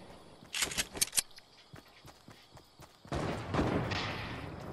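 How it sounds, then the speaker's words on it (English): Enemy gunfire in a video game: a rapid cluster of sharp, close shots near the start, a quieter gap, then a sustained loud burst of dense firing and noise through the end, with no talking over it. "Oh, he's shooting at me."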